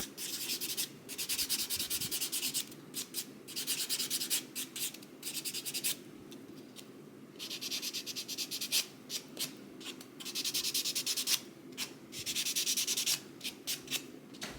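Fingernails being buffed and smoothed with a nail buffer for gel-X nails, a close, dry rasping rub in repeated bursts of strokes with brief pauses between them, no voices.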